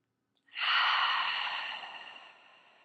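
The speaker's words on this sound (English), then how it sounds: "Breathing here for a moment." A single long, deep exhale during guided meditation, a soft breathy rush that swells quickly and then slowly fades, close and alone without talk.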